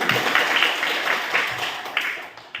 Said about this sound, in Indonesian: Tepuk tangan sama Chelsea